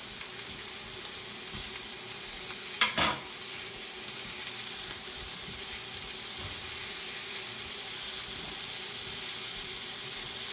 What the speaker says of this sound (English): I'll put that pat of butter in there.